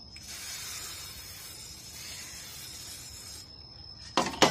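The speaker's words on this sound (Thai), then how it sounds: "ก็จะพ่นไว้อย่างนี้นะครับ" Silicone spray hisses from an aerosol can onto plastic parts in an Isuzu D-Max engine bay, one continuous close spray lasting about three seconds, then a short rattling clatter as the can is handled.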